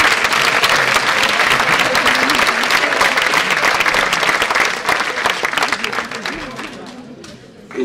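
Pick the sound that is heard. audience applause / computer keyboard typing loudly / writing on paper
audience applause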